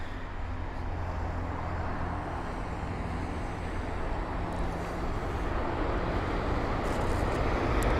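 A Boeing 777 at London Heathrow airport, heard as a steady, broad jet-engine roar that holds level and swells slightly toward the end, with no voices over it.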